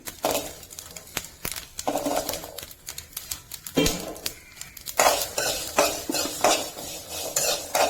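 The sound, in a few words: frying curry leaves and shallots in a pan for fish curry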